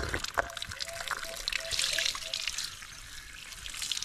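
Water trickles and splashes from a tank beside a river in a close, continuous stream, with faint outdoor background noise.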